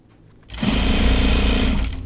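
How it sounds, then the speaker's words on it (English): A sewing machine stitches binding onto a backpack, starting abruptly after a quiet moment and then running loud and steady with a dense rapid whir close by. "when I'm sewing on my binding, I am pulling it a little bit"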